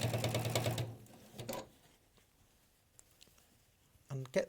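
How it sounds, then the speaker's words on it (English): A sewing machine stitching fabric for a triple tuck smock dress, a short whirring run at the start followed by quiet, with a brief burst again near the end and a voice talking. "just going to sew"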